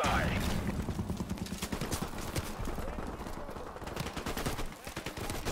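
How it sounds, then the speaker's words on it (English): Machine gun in Call of Duty: Modern Warfare Remastered fires in rapid, dense bursts of sharp cracks, fairly faint in the mix, with a voice talking over part of the shooting. "this piece of masterwork is a very powerful gun that can be devastating in the right hands"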